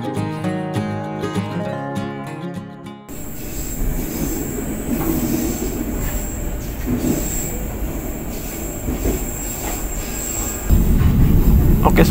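The Pangrango passenger train between Bogor and Sukabumi runs on rails, heard from the rearmost carriage. A steady rumbling rail noise builds with faint squeals and grows louder near the end, following a brief stretch of music at the start.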